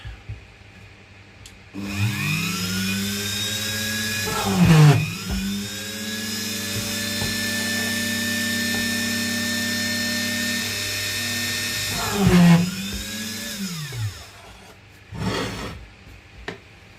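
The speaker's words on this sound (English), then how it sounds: "This is Dremel, by the way. This is a good product by Dremel." A Dremel rotary tool whines at high speed as it cuts wood, spinning up and down twice with steady harmonic tones and brief bursts of loading between passes, close and loud, without voices.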